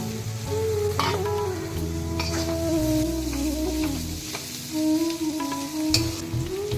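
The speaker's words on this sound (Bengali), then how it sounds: "এবার আমি আবার একটু ভালো করে নাড়াচাড়া করে নেব, দিয়ে চিকেনটাকে দিয়ে দেবো।" Chicken with turmeric frying in a pan, a continuous loud sizzle under steady stirring and scraping, with a low background hum throughout.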